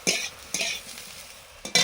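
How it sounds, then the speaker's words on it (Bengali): Cauliflower frying with tempering spices in a home kitchen, a close hissing sizzle punctuated by three sharp bursts of stirring and utensil scrapes against the pan. "এদিকে ফুলকপি ফোড়ন দিয়ে ফুলকপি ভাজছি"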